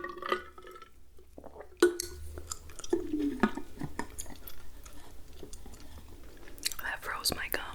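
Gum being chewed close to the microphone in a whispered setting, with soft wet smacks and clicks repeating irregularly throughout, mixed with faint breaths and occasional whispering.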